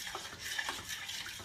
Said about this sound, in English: You just want to heat it up. So I'm just stirring it.